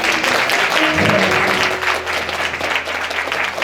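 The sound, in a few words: congregation clapping hands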